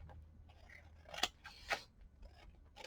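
Scissors snipping a piece off a paper gift bag, a few close crisp cuts and crinkles of paper in a quiet room, two sharper snips standing out.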